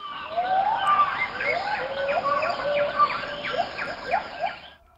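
Gibbons sing to each other in a forest, rising and swooping whooping notes exchanged in quick succession, loud and clear over a steady high insect hum.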